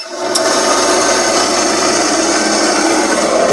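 An angle grinder running off an inverter fed by two 17.5 amp-hour SLA batteries spins up and then holds a loud, steady high whine close by, with no voices.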